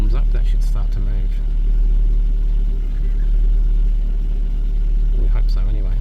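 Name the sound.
2009 Ford Focus engine idling while warming up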